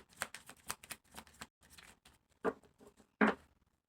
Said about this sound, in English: I'm going to pull 5 cards here.